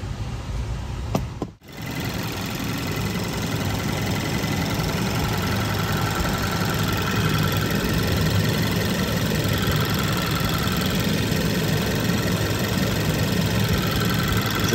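A repaired Hyundai GDI engine idles close by with an even, continuous hum and light ticking, briefly interrupted by a short click near the start, then running smoothly with no talking.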